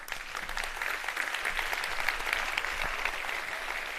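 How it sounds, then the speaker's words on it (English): Audience applause at the Code for America Summit 2019 keynote, a steady, dense wash of clapping from a large crowd lasting throughout without talk. "can we all give them a round of applause?"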